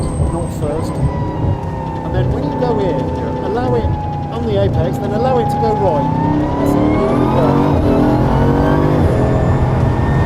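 An extreme car driven hard around a track roars loudly inside the cabin, the engine pitch climbing and dropping as gears shift, while someone talks over it.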